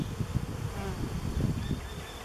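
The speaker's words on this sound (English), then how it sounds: "I got a bee that don't like me" Honeybees buzz around an open, queenless hive during a frame inspection, a dense, steady swarm drone that stays close and loud throughout with no voices.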